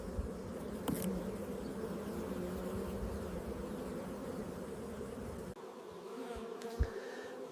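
A honey bee colony hums continuously inside an open hive, a soft, steady buzz with a few individual bees passing closer, and no voices.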